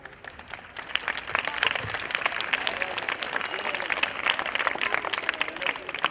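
Students at a school anniversary celebration burst into sustained applause, many hands clapping in a dense, steady patter that fills the hall, loud and continuous throughout, with no speech over it.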